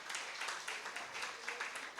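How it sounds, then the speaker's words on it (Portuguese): A class applauding during a Bible lesson, a soft, fairly distant patter of many hands clapping steadily for about two seconds, fairly quiet overall. "Você pode aplaudir a ele?"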